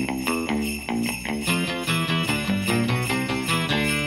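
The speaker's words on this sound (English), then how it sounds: "You know, that's a great riff, and it totally depends on the baritone to pull it off." A Danelectro '56 baritone guitar picks out a riff, a quick run of bright plucked notes at a fast, even pulse, played close with no talking.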